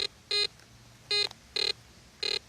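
Metal detector giving short, harsh scratchy tones over a gold wine-bottle lid, four separate buzzy beeps spaced irregularly against a quiet background.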